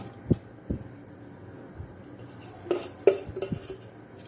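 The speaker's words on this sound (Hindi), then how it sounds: "एक बार चमचा चला देते हैं ताकि जो कनौर क्यूब डाला था वो सब में हल हो जाए" A metal spoon clinks and scrapes against a cooking pot of pulao with peas as rice is added and stirred, several sharp irregular knocks and taps, close, with quiet pauses between and no talking.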